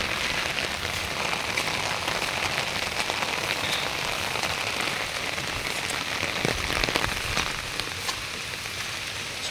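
Heavy rain pours steadily onto surfaces outdoors, a dense, constant hiss of drops with no let-up, fairly close and filling the whole scene.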